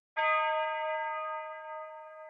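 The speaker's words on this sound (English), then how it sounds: "This just kind of works as a tubular bell just to add some impact in." Tubular bell synth layer from a dark bell preset in a trap beat, one clear struck tone with steady harmonic partials that sustain and slowly fade over about two seconds, heard alone.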